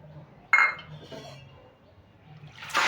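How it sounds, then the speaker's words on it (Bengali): Chana dal lentils being rinsed with water in a vessel, a short close clink of the pot followed by soft swishing of water and grains, then another splash at the end. "এবার ডালটাকে আমি খুব ভালো করে দুবার ধুয়ে নেব"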